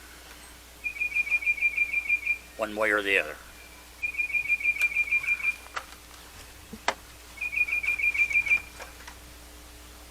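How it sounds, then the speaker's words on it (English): A bird repeats a bright, rapid trilling whistle in three separate bursts. Someone speaks briefly between the first and second bursts, and faint clicks and taps sound in the background. "That is one very noisy bird."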